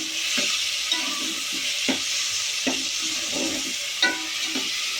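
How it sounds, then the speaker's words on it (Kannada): Coriander, mint and a single green chilli fry with onion in a pan, giving a steady broadband sizzle throughout, broken by several soft stirring scrapes at irregular intervals, close and fairly loud with no talking. "ಇವಾಗ ಸ್ವಲ್ಪ ಫ್ರೈ ಆಗಬೇಕು."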